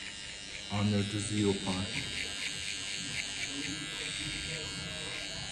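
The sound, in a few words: hair trimmer buzzing during haircut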